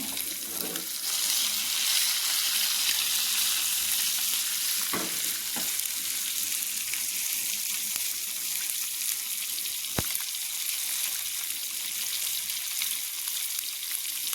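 Fish sizzles steadily in a frying pan throughout, a dense close hiss with a few faint clicks and knocks, and no one speaks.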